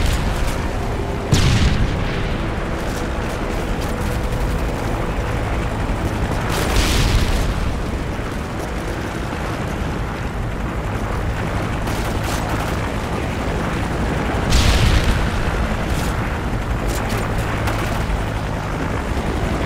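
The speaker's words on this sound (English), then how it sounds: "Friendly Predator missile inbound." Predator missile strikes in Modern Warfare 3 multiplayer, several heavy booming blasts spaced seconds apart over a constant dense roar of battle noise, loud and close.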